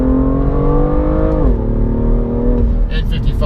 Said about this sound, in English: Revs really, really free. It is a very good engine.